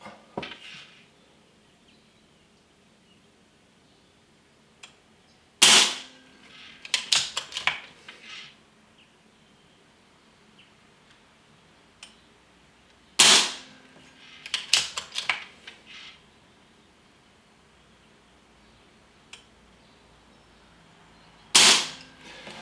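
Three sharp shots from a Snowpeak AP-1000 42-joule air rifle at full power ring out at spaced intervals, each a crisp crack followed by a short flurry of clicks and rattles.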